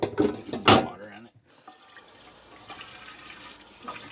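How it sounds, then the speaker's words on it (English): Water is poured into a Maruchan Chicken Tortilla Flavor instant noodle cup, starting as a loud splashing burst that cuts off, then a fainter trickle and faint voice. "Get some water in it."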